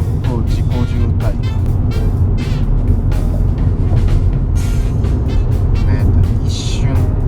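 A Suzuki Swift XR Limited cruising on a Japanese expressway at about 70 km/h under adaptive cruise control in light congestion, steady road and engine rumble heard from inside the cabin with someone talking over it.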